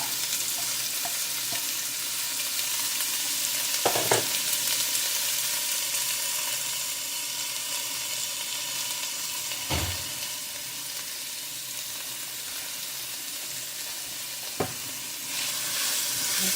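Onions and vegetables for a squash and red lentil curry sizzle steadily in a hot pan, a continuous crackling hiss with a few soft clinks of stirring, close up and without voices.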